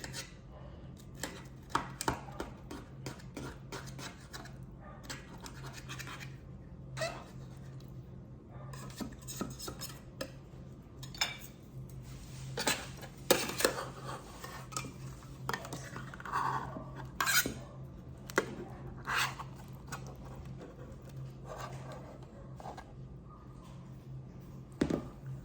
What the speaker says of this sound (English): Let's try the knife first, because I want to make sure that tortilla at the bottom is cut.